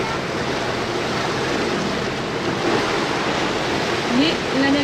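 Ocean waves wash around a sailboat at sea on a hazy passage, a loud continuous rushing roar of water and wind with slight swells in intensity, close by and unbroken.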